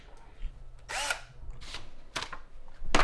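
A power drill boring holes, likely overhead into a ceiling, in several short bursts of whirring with quiet gaps between, close and fairly loud.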